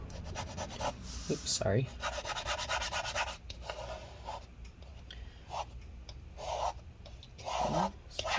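A blade scrapes stuck battery adhesive residue inside a 2015 13-inch Retina MacBook Pro A1502, with repeated short rasping strokes and small taps close by, and a voice speaks briefly partway through.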